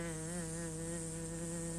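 A bee buzzes in a steady, sustained drone, close and even in loudness for the brief moment it lasts, with no voices over it.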